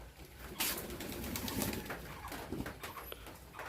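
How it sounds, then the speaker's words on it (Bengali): Bombay pigeons coo softly in repeated throaty calls while they gather to bathe during light rain, a quiet and close flock with no talk. "এই যে বোম্বাই কবুতর, এই জায়গায় আছে বোম্বাই, রাজশাহী গিরিবাস।"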